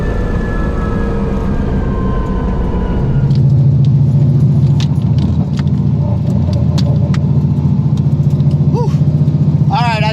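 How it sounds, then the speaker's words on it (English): A twin-turbo Shelby GT500 races on a half-mile course with its clutch slipping in fifth gear, a loud, steady engine drone that deepens into a strong low rumble partway through. "But it's still going right through the clutch in 5th gear."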